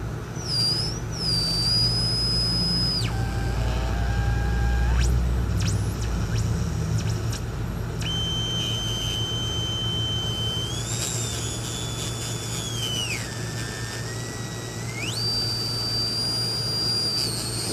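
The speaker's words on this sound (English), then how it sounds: "You hear all them birds and whistles." Shortwave radio static from an Allied two-tube shortwave radio hisses and roars beneath sustained electronic whistles that glide up and down in pitch, shifting tones several times.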